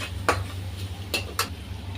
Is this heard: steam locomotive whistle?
no